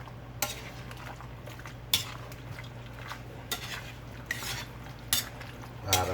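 A spoon stirs chicken curry in a pot, scraping and knocking against the metal in about six sharp strokes, spaced roughly a second apart, over a low steady hum.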